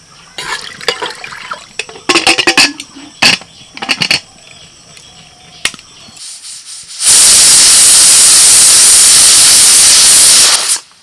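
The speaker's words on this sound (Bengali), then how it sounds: "প্রেসার কুকারে একটা সিটি পড়ে গেছে" A pressure cooker whistle blows on a kitchen stove with a loud, sustained burst of hissing steam lasting several seconds, preceded by scattered clinks and clatters of cooking.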